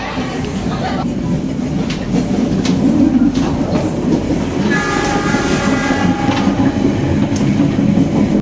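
A Pangrango passenger train rolls along the rails at close range in the early morning, with a steady loud rumble, rhythmic clacking and squealing wheel tones throughout.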